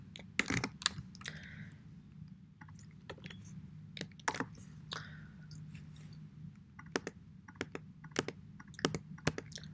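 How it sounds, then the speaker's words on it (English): A computer keyboard clicks irregularly as C++ code is typed, with close, crisp keystrokes in uneven bursts over a low steady hum and no talking. "Let's go ahead and copy or type"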